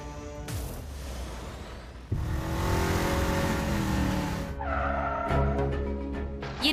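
A car engine with a fault runs steadily, then revs up louder around the middle and keeps droning at a strong, constant level with a rising whine.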